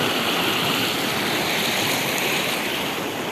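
Water flows and rushes steadily as a continuous broadband wash, close and even in loudness, with no speech over it.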